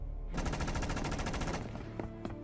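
A rapid burst of automatic gunfire, loud and close, rattling for about a second before a couple of lone shots ring out.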